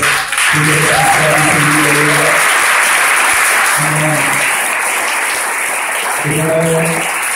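A church congregation in Gabon applauds loudly and steadily throughout, close and dense, while a voice talks over the clapping at intervals.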